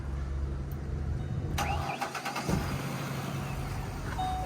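A car engine cranks and catches, then settles into a steady running hum, close by with no voices. The engine is in good condition and runs smoothly with no knocking; the car is in Calgary, Canada.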